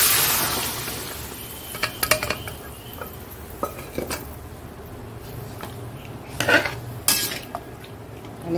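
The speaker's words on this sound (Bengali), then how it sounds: "এই শাকটা দিয়ে দেবো।" Greens tipped into a pan of fried five-spice seeds and stirred, giving sporadic metallic clinks and scrapes of a utensil against the pan over a faint low sizzle, close by.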